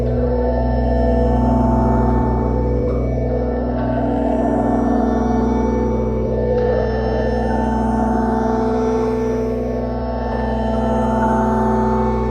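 Tekno synth sound processed with saturation, resonances, a limiter and stereo widening, droning as a loud sustained, thick harmonic tone with a slowly swelling texture and no speech over it.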